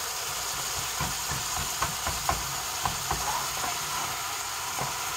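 Meat frying in a pan turned up on high heat, a steady broadband sizzle with scattered soft pops and crackles throughout, fairly close and even in level.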